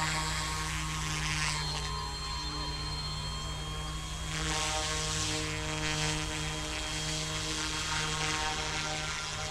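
Eachine E186 Bell 206 RC helicopter, its small rotor and motor giving a continuous close, steady high-pitched whirring drone with slight swells in intensity.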